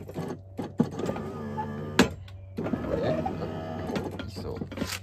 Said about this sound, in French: c'est donc un marche-pied électrique